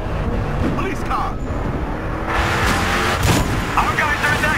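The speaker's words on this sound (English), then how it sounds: "Police car!" A police car in the video game Battlefield Hardline roars past with a loud engine, surrounded by in-game gunfire, effects and talking voices.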